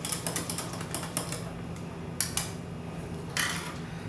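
A metal whisk clinks rapidly and steadily against a pot as a cold mixture is beaten into hot milk for Shahi Tukda, a series of close, light, irregular ticks with no voices.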